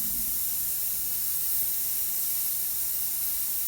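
An airbrush sprays paint for miniature painting, a continuous close airy hiss running steadily without pause.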